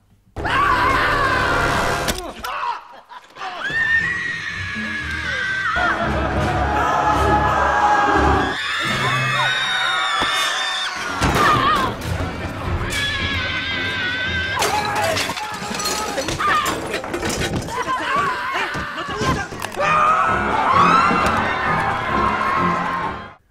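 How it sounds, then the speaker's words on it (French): Loud, dense mix of shouting, screams and anguished cries from the grotesque Spanish film Balada Triste de Trompeta, with crashing and shattering noises and music, continuous and chaotic throughout. "De nombreux cris aux diverses nuances résonnent tout au long du film."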